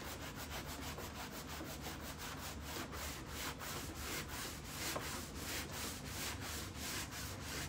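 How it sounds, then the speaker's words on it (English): Old finish is scrubbed off a wooden buffet with an abrasive pad in quick, rhythmic back-and-forth strokes, a dry rasping scrape repeating steadily and close up with no talking. "we need to just scrub it off"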